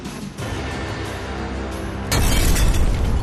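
Seized explosive material is deliberately detonated in a single heavy blast that bursts out abruptly after a short rumbling lead-in. The loud boom then rolls on with a dense, rough roar until the end.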